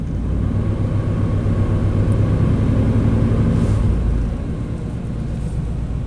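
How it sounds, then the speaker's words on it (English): A 1991 Chevy K1500 pickup's engine rumbles loudly and steadily under added throttle, then eases back toward a lower idle near the end. "I'm going to give it some throttle."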